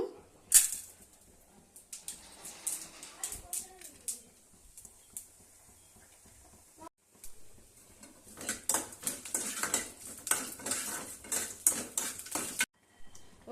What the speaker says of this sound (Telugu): నూనె కూడా బాగా వేడై ఉందండి చూడండి తాలింపులు అయితే వేస్తున్నాను